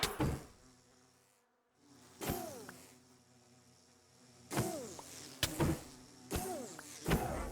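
Bees in a video game drone with a buzzing hum that swells and fades, broken by several sharp whooshing swipes and hits as they are attacked, close and moderately loud.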